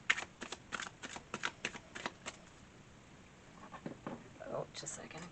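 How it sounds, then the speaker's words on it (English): Tarot cards being shuffled, with a burst of crisp riffling flicks and slaps near the start and a card dropping, then quieter handling later; a person speaks across the clip. "A card fell."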